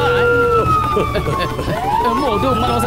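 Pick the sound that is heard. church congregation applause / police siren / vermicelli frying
police siren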